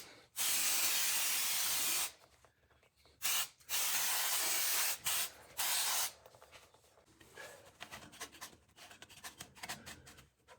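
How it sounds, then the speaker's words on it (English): Aerosol brake cleaner hissing in several bursts on a 1988 S15 driveshaft area, two long blasts then shorter spurts, followed by quieter rubbing and handling sounds. "I'm gonna spray some brake clean in here and just clean this up a bit"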